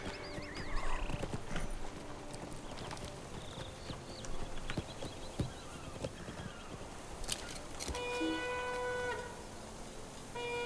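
Hooves of a war steed clip-clopping in The Lord of the Rings Online, a steady trotting rhythm with a whinny early on and game chimes and effects over the top, no talk.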